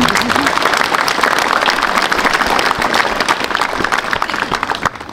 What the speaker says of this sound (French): Mais oui, on peut les applaudir.